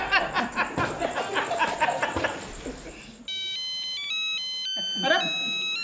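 A telephone ringtone plays as a steady electronic melodic tone after a stretch of voices and light laughter, ringing clearly and continuously near the end with a brief voice over it.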